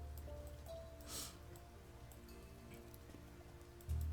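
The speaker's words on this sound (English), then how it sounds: "And the rains have come, and Colette remains sick." Rain falls in the tribe-building video game Niche, a soft steady patter over a low tonal game music bed, with a brief brighter splash near the middle and a louder thump at the end.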